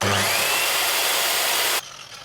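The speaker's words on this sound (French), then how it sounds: "Et mon outillage le plus puissant avec la scie," An electric saw drawing about 1500 watts, powered by an EcoFlow Delta Pro battery, runs loud and steady with a harsh, bright whirring roar, then stops abruptly, leaving a softer fading hum.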